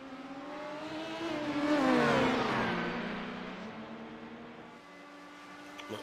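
LMP2 race cars in a sim racing endurance game, an engine note climbing and revving as a car sweeps past, swelling to a peak then fading into a lower drone.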